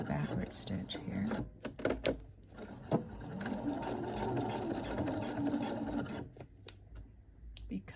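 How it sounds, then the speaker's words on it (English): Sewing machine running a straight stitch and then a backward stitch on a DIY panty, a steady mechanical whir in bursts with clicks between them, close, with a person talking over it. "do a straight stitch and do a backward stitch here"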